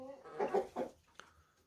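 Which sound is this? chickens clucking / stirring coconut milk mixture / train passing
chickens clucking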